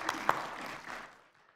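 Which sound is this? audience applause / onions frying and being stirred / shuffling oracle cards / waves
audience applause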